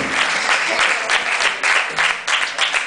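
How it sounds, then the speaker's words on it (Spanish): An audience at a drum clinic gives loud, close applause that swells and dips in uneven waves for a few seconds, with a voice faintly under the clapping. "Así que de nuevo un fuerte aplauso para los chicos,"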